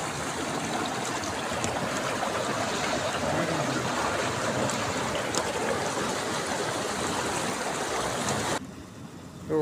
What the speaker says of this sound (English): Overflowing springs.